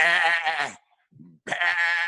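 A goat gives two loud, close, quavering bleats separated by a short pause, with a faint low sound in the gap.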